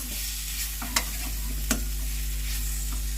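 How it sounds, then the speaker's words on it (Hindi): Chopped tomatoes salted and stirred as they fry over low flame in a pan, a steady broad sizzle with a couple of sharp spoon taps against the metal. "नमक डालकर अच्छी तरह से चला लें इसे।"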